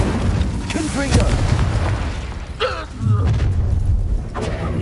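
Confringo explosive spell blasts in Hogwarts Legacy combat, heavy booming impacts and rumble layered with battle sounds and shouted voices.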